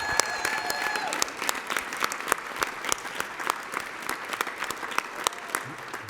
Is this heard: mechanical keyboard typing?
no